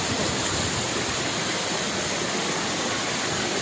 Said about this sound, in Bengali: দেখুন সেই ঠান্ডা, কনকনে ঠান্ডা পাহাড়ি জল কীভাবে আস্তে আস্তে নিচে নামছে।